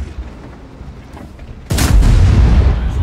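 A heavy tank gun fires once in the World of Tanks video game, a sudden loud boom that cuts through quieter engine rumble and then leaves a sustained roar.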